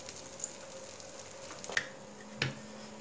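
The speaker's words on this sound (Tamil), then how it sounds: "லேசாக எண்ணெய் சேர்த்துக்கலாம். ஒரு பக்கம் தோசை நல்லா குக் ஆகட்டும்." A dosa cooks on a pan with a little oil, giving a faint, steady sizzle broken by a few soft pops and clicks.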